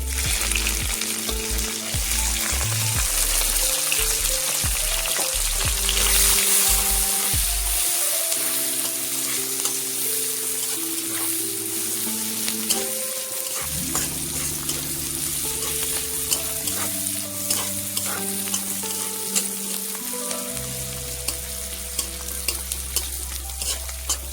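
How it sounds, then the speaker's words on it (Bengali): Chopped garlic and onion frying in a pan, a loud steady sizzle under persistent stirring, with a tonal hum carrying through the whole stretch. "রসুন কুচি ব্রাউন হয়ে এসছে, এবার আমি দিয়ে দেবো পেঁয়াজ কুচানো"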